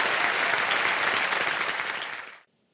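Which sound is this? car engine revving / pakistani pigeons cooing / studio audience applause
studio audience applause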